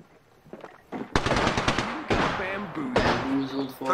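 Automatic weapon fire in Apex Legends, a battle royale shooter game, comes in three loud, rapid volleys, mixed with other game sounds and effects.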